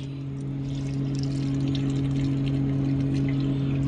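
Water pours steadily out of a truck's fuel tank, which is half full of water, in a continuous even rush close by, with a constant low mechanical hum beneath it.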